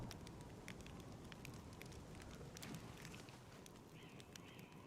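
Campfire crackling in the fantasy role-playing game Pathfinder: Wrath of the Righteous, a steady bed of soft pops and snaps over low rumbling hiss, continuous and evenly loud with no talk.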